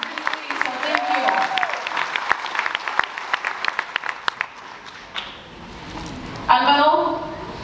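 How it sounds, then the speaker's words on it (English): Audience at a graduation ceremony for a justice and leadership academy claps in a scattered, moderate applause of several seconds, with a speaker's voice heard at points. "can I get a round of applause"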